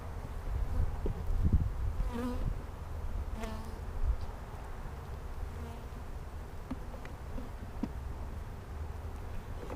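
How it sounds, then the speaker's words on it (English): A swarm of honey bees from a 3-pound package hums with a steady, close buzz during hive installation outdoors, low drone rising and falling as individual bees zip past the microphone. "This is a 3-pound package of bees."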